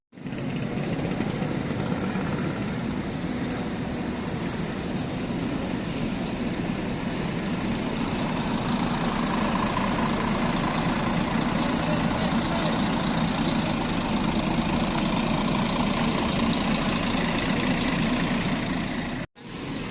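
A double-decker executive bus on the Surabaya–Jakarta route pulls in, its diesel engine rumbling and idling close by in a steady, heavy drone that runs nearly twenty seconds before cutting off abruptly.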